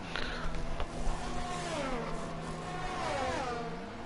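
A race car in an F1 racing game, at the Canada round, sweeps past with a whining engine tone that climbs and dips through gear changes, heard at moderate volume against steady background noise.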